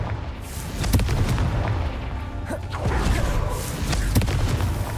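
Explosive Confringo spell blasts in Hogwarts Legacy, several sharp booming bursts over a busy combat background, loud and close, with no speech.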